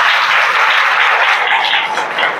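Sustained applause from a crowd clapping together at a Hindi Christian sermon, steady and fairly loud throughout with no gaps, the dense patter filling the whole moment.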